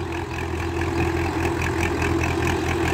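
A 45-year-old tractor engine runs with the accelerator pressed down, giving a steady, loud, low diesel chug with a continuous throb and no breaks or speech.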